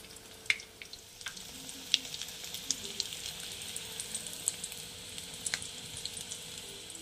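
Egg muitha dumplings fry in hot oil in a kadai, giving a steady close sizzle broken by scattered sharp pops and crackles throughout.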